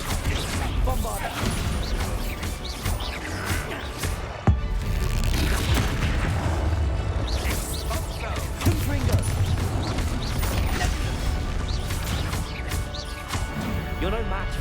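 Rumbling blasts and crashing impacts from Bombarda explosion spells in Hogwarts Legacy on PS5, dense and continuous across the stretch, with a sharp thud partway through and voices heard over the chaos.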